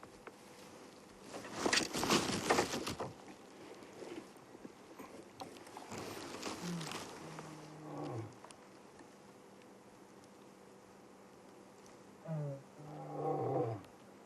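A male lion on a termite mound at sunset on safari gives mournful low moaning calls rather than a full roar. Two groaning, falling calls come fairly faint and distant, after closer rustling movement.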